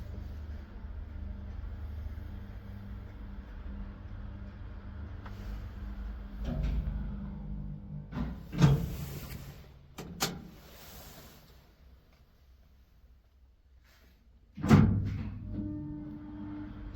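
An old Kone traction elevator in an apartment building in Tervakoski, Finland, rumbles as it runs, then its doors clatter and thud in several sharp bangs, with quieter mechanical hum in between.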